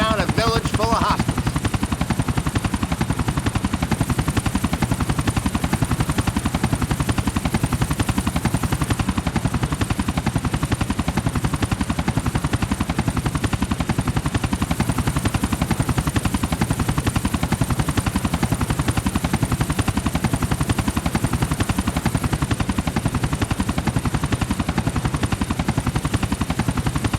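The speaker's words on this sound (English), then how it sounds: "sure is great to be driving a chopper for fun" A helicopter in Grand Theft Auto flies steadily with a loud, continuous rotor thrum and engine whine throughout, close and unbroken.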